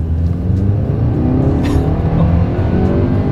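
A 2024 Nissan Sentra's engine roars loudly and steadily, revving hard as the car accelerates from a standstill, with a rough droning rumble throughout.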